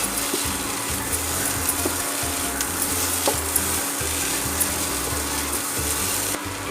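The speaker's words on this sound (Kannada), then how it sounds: "ಕೊತ್ತಂಬರಿ ಸೊಪ್ಪು ಪಾಡ್ದು ಅಂತ ಸರಿ ಮಿಕ್ಸ್ ಮಾಡ್ತದೆ" Egg sukka with coriander leaves being stirred in a hot pan, a steady sizzle with repeated scraping strokes of the spoon, close and loud, with no talking.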